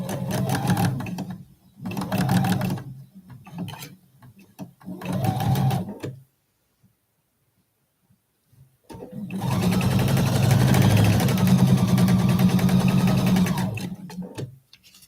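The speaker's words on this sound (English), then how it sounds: "So I'm just going to start sewing this one." A sewing machine stitches quilt block pieces in three short runs of about a second each, then pauses in silence, then makes one long steady run of about six seconds, close and loud with no talk.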